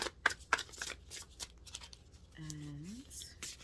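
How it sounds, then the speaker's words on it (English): A deck of tarot cards is shuffled by hand, giving a few sharp riffling bursts and papery slides close up in a quiet room, followed by a short gliding tone. "shuffling."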